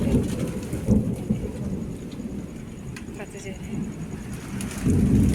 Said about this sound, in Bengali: এখন বাইরে প্রচুর বৃষ্টি পড়ছে